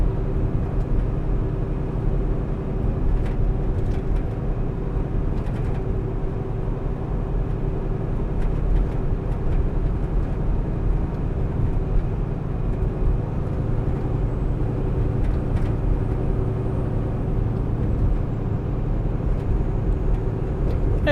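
Inside a truck driving on a road on a Tuesday evening, a loud, steady low engine and road drone holds throughout with faint passing traffic and no talking.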